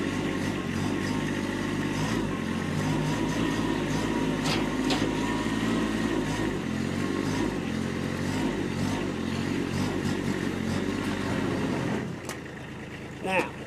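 A 2020 Kubota B2401D compact tractor drives in low range with a steady, low diesel engine rumble that drops away near the end, and a voice talks over it.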